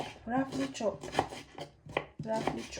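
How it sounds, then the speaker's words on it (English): Quick, uneven knife chops on a cutting board, close by, with a voice faintly in the background. "so just roughly chop"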